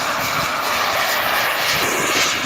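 An RC model airplane engine drones loud and steady at full power during takeoff, a continuous buzzing roar with no pauses or talk.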